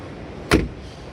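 A frameless car door at a classic car restoration show opens with a single short, sharp clunk, close by, over a steady hall background with no talk.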